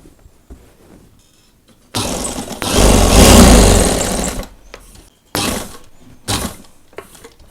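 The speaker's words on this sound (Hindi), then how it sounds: "फिर इस बुकरम के साथ यहाँ तक सिलाई लगाएंगे।" Sewing machine stitching a high-neck collar piece with buckram and lace, heard as a loud continuous run of about two and a half seconds, followed by a few shorter, softer bursts with brief pauses between them.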